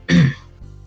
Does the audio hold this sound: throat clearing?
yes